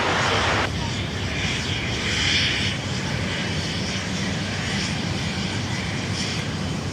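A Falcon 2000 business jet takes off at Sydney Airport, its engines a loud, continuous, broadband roar filling the whole stretch, with faint voices underneath.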